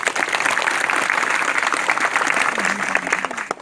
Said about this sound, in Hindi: एक बार इन बच्चों के लिए जोरदार तालियां बजाइए